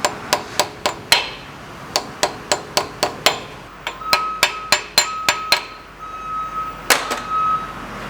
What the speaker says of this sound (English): I've got a duckbill hammer. It's really a body hammer.